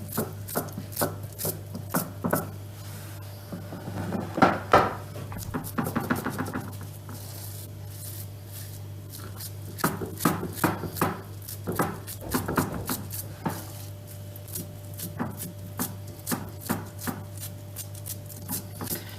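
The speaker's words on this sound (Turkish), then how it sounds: "Şimdi güzelce bunu tepsime dizeceğim ve yayacağım." A semolina dessert mixture for Turkish şam tatlısı is pressed and spread across a baking tray by hand, making soft irregular scraping, rubbing and tapping sounds over a steady low hum, with no talk.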